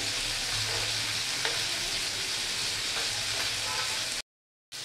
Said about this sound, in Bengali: তেল গরম হয়ে গেছে, এখন চিংড়ি মাছগুলোকে দিয়ে দেবো, দিয়ে ভেজে নেবো ভালো করে।